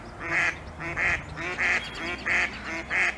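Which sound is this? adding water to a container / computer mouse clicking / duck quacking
duck quacking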